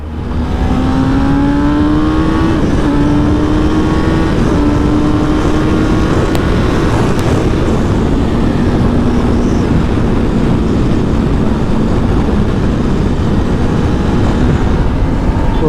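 A 2022 Kawasaki ZX10R superbike engine drones loudly and steadily while riding, its pitch climbing gradually under heavy, constant wind rush with no voices.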